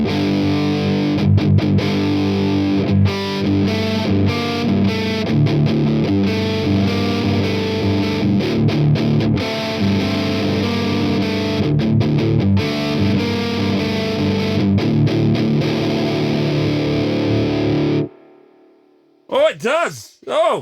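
Electric guitar through a Crazy Tube Circuits Venus tube overdrive pedal plays loud, thick chugging chords and riffs for most of the stretch, then stops, followed by a few brief ringing notes.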